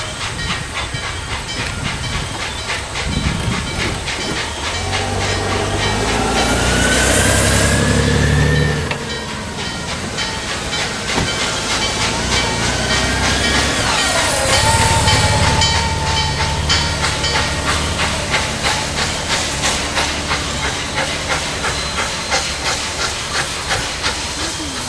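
Norfolk and Western 611, a steam locomotive, stands at Strasburg beside a sister engine. It vents loud bursts of hissing steam over a continuous mechanical rumble and faint rhythmic clanking.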